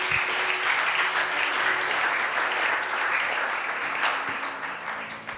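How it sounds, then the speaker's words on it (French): A church congregation at a Sunday service applauding the Lord, steady sustained clapping from many hands filling the room, with a few faint voices underneath. "tu peux acclamer le Seigneur"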